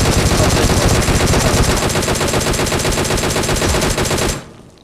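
Dense, rapid automatic gunfire in a shooter video game shootout, loud and continuous bursts for over four seconds before cutting off abruptly, with no talking.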